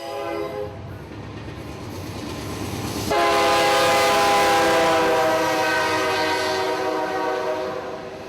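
An empty northbound coal freight train returning from a Georgia power plant passes through Austell, Georgia, with a loud sustained horn blast over rolling wheel noise and rail clatter that swells as the train draws near.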